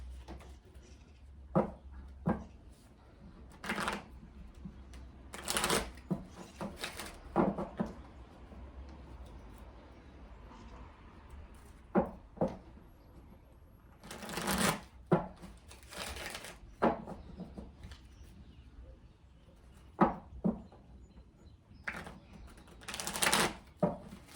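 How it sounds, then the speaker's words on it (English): Tarot cards being shuffled in bursts of crisp riffling and soft slaps, scattered with pauses over a faint low background hum, with no talking. "It needs to be shuffled correctly."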